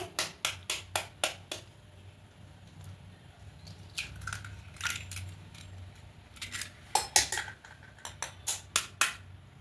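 Eggs cracked against a bowl's rim in a home kitchen, a quick series of sharp, close taps with brief pauses and a few scattered knocks, clear against a quiet room with no talking.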